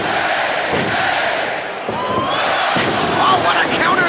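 A wrestling arena crowd roars and cheers in a continuous loud wash during a Zema Ion versus Kenny King match, with swells and a brief dip partway through.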